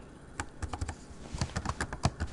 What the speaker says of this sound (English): then I'll start typing part B